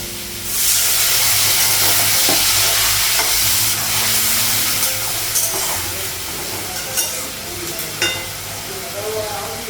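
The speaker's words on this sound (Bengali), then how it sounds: "আর একটু ভেজে নেব" Potatoes and squash frying in a hot pan give off a loud, steady sizzle and hiss, with occasional clinks and stirring scrapes throughout.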